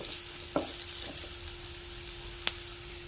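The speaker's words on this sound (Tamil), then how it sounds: "நல்லா ஹை ஃப்ளேமில் வச்சுட்டு கேப்சிகத்தை நல்லா வதக்கி எடுத்துக்கோங்க" Thinly cut capsicum sautéing on a high flame, a faint, steady sizzle with two brief clicks of a spoon against the pan.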